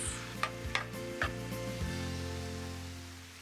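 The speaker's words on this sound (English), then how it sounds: "And then I need to stir and cook the meat completely." Ground beef stirred and browning in a pan for Bolognese, seasoned with salt and pepper: a steady sizzle runs throughout, with a few scraping stirs of the spoon early on, close and moderately loud, no voices.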